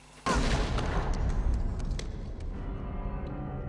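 A sudden loud explosive burst marks a head exploding in the horror film Freddy's Dead: The Final Nightmare, with a booming impact that trails off into a long rumbling decay.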